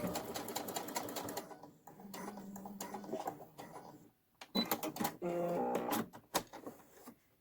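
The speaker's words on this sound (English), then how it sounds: "I like to make sure I back tack over that elastic." Sewing machine stitching back and forth over elastic on a fabric face mask with a filter pocket, running in several short bursts with brief pauses between them, close and fairly loud, with no talking.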